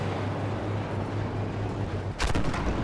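Tank cannon firing in Armored Warfare: a single loud, sharp blast near the end punches through a steady low engine drone and rumbling battle ambience, with no talk over it.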